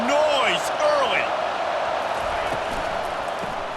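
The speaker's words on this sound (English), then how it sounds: "This crowd bringing the energy and noise early." Steady roar of a football stadium crowd at a game between plays, loud and continuous with swelling cheers and whistles, a commentator's voice rising above it.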